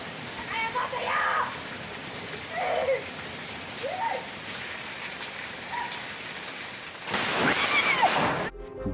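Steady rain falls on a house lawn as a constant hiss throughout, with voices speaking intermittently over it and a louder burst of rain and noise near the end.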